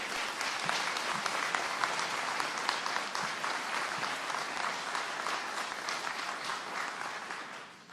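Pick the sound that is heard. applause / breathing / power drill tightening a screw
applause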